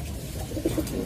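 Pigeons coo in a loft where the birds are nesting, with a male nearby; soft low murmuring coos swell and repeat through the short stretch, with no talking.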